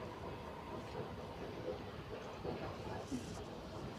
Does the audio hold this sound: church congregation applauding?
no